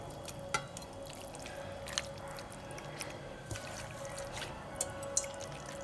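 Pieces of young mutton are washed in water, giving quiet drips, small splashes and trickles at irregular intervals over a faint background hum.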